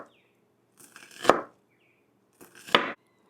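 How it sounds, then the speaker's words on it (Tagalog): A knife mincing onion on a cutting board, two short bursts of quick chopping strokes separated by a pause, close and crisp with no talking. "For the onion, mince."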